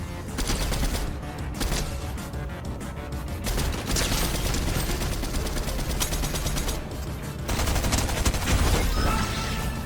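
Rapid, sustained gunfire in the game Fortnite, dense bursts of automatic shots rattling continuously at fairly loud volume, with no talking over them.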